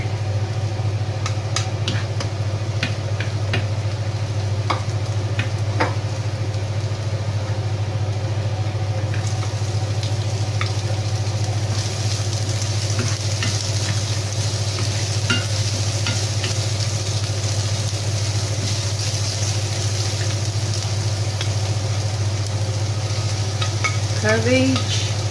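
Garlic fries and gets stirred in a pan, a steady close sizzle with scraping stir strokes throughout, a low constant hum beneath, and no voices.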